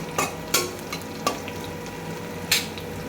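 Whole dried chilies go into browned onions frying in a pan, giving a continuous sizzle with several sharp clacks and scrapes of a spoon against the pan.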